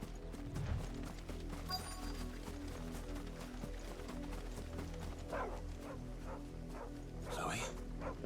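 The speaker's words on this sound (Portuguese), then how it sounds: "aquele cachorro mal feito" A dog barks in Final Fantasy XVI on PS5, a few sharp yelps rising over steady game ambience and background music, with a person talking throughout.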